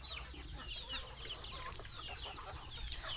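Farm chickens and small chicks cluck and peep together in a soft, busy chorus, with faint high chirps layered over low clucking and one brief sharp peep near the end.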